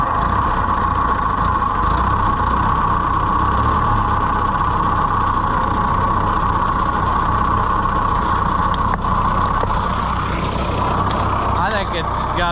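A Ferguson 30 tractor with a faulty governor that fails to accelerate runs at a loud, steady idle close by, its drone unbroken throughout while people talk over it.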